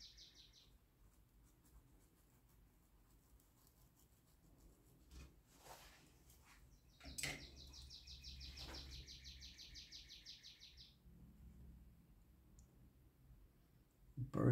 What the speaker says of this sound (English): Birds are awful loud today.